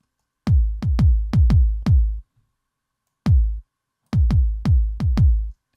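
Punchy electronic kick drum hits, a quick run of five, a lone hit after a pause, then five more, each booming low with a short decay.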